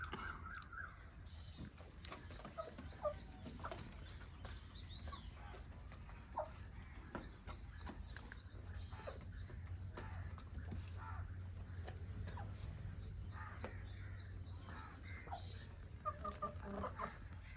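Chickens cluck steadily while being fed scraps of desi-ghee paratha in a Punjab village yard, with frequent short bird calls over a constant low rumble and occasional knocks, moderately close and free of talk.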